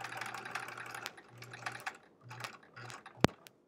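A sewing machine stitching a quilt block seam at a slow pace, its motor running in short bursts between pauses with faint mechanical clicks, close and moderately quiet, ending with a sharp click.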